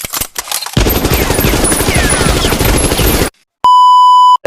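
Loud, rapid bursts of automatic gunfire from a shooting game fill most of the moment, then cut to silence followed by a steady electronic beep.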